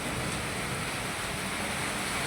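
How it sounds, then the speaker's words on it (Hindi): Heavy monsoon-style rain pours down steadily on a village home in the evening, a dense, even hiss that fills the whole stretch with no voices over it. "और बारिश हो रही है, झमाझम बारिश, कपड़े उठा ही नहीं पाए, इतनी तेज बारिश हो रही।"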